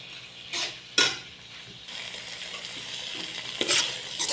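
Okra sautéing in a pan with shrimp paste (alamang) for pinakbet, a steady close sizzle broken by a few louder stirring scrapes and clatters, no talking.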